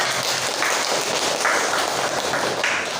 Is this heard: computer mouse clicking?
no